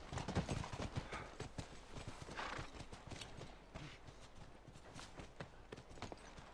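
Horse hooves clip-clop in a fast, close, rhythmic gallop in The Last of Us video game, with a brief whinny near the start and no talk over it.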